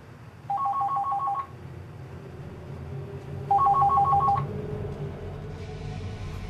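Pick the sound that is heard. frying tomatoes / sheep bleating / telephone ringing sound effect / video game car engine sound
telephone ringing sound effect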